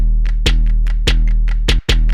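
UK hoodtrap hip-hop beat with one of its two 808 bass layers muted, leaving a single deep bass line under sharp snares and ticking hats in a steady loud groove.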